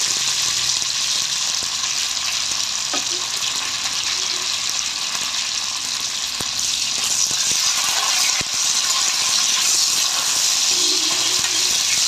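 Onions, garlic, curry leaves and green chillies sautéing in oil for ayala meen kulambu, a loud, unbroken hissing sizzle that carries on for several seconds with faint utensil clicks and no talk.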